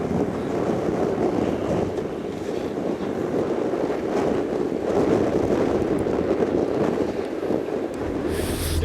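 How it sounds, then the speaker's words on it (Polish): Strong wind buffets the microphone in a steady roar while a small boat moves over the water off Panama, with broadband rumble and splashing continuing throughout and no voices. "bo ostro wieje, jeszcze raz tą łódeczką płynę"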